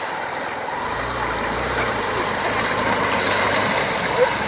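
A Hero Xpulse motorbike rides into river water, its engine droning steadily beneath rushing, splashing water and wind noise, close by and fairly loud.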